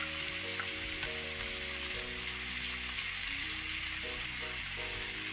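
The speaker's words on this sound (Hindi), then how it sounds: "मैंने चिकन को पैन ले लिया है। अब हमें इसमें जो है वो चिकन जो है वो" Chicken pieces fry steadily in a hot pan for a beginner's chicken tikka biryani, giving a continuous, even sizzle close to the microphone with no talking.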